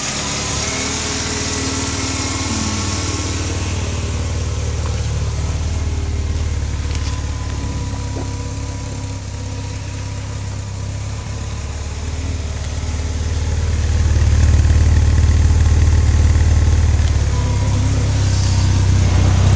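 A Volkswagen Golf engine on a cold day runs with a steady low idle hum that rises slightly toward the end, close and loud, with no talking.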